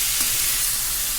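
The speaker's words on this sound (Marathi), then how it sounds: "आपण हे चांगले परतून घेऊ, जेणेकरून आपल्याला कांद्याचा वास नको यायला भाजीमध्ये।" Onions and tomatoes sauté in a pan for a paneer masala, giving a dense, steady sizzle and hiss at close range, with no voices.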